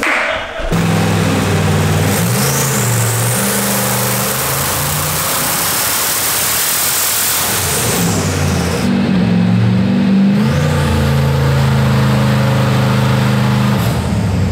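Custom Halo Warthog replica with a 1000 hp twin-turbo V8 on a chassis dyno, engine running loud and steady with layered drivetrain and turbo whine, revs shifting and a brief dip mid-run before climbing again.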